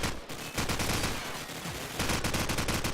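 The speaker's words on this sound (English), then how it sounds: "Blade and Jermaine having a fierce gunfight here" Sustained automatic gunfire from a Call of Duty 4 match, loud and continuous bursts of rifle fire including an AK, dipping briefly at about two seconds before resuming at full intensity.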